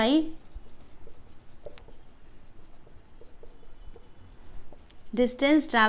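An algebra equation is written out by hand with faint, scratchy strokes in short irregular bursts. A voice speaks briefly at the very start and again at the end.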